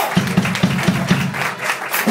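A band concert crowd breaks into applause for the birthday drummer, a short burst of rhythmic clapping that fades over about two seconds, loud and close, with cheering voices mixed in.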